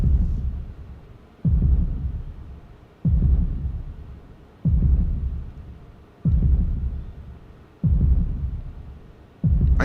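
A slow, heavy heartbeat in the PS1 role-playing game The Legend of Dragoon, with six or seven loud, booming thumps about a second and a half apart, each fading into a low rumble.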